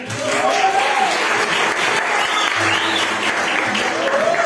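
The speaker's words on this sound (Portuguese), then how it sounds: "Vamos aplaudir a minha irmã?" Congregation at a church worship service clapping steadily, with voices mixed into the applause.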